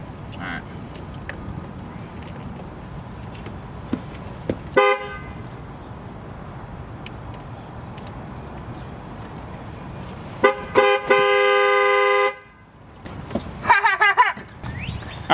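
A car horn blares after a steering wheel install, with a short honk near five seconds and a long sustained blast around eleven to twelve seconds, followed by further brief toots; low background noise fills the gaps.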